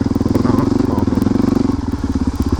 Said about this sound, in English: right now, I'm actually having to feather the clutch just a little bit because it's just too tall